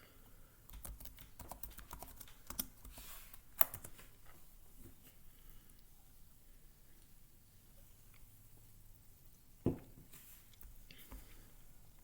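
Quick, uneven clacking of computer keyboard keys, close and fairly quiet, with short bursts and pauses and a couple of sharper key hits, no voices.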